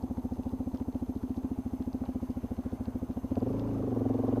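A supermoto motorcycle idles with a steady low, rapid thumping pulse, then the throttle opens into a smoother, rising drone near the end, heard close with no talk.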